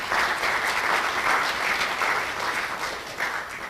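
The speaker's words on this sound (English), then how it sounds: "So give them a round of applause." A live audience applauds at a talk on racial profiling, a dense, steady clapping that fills the room from start to finish at even loudness with no voices over it.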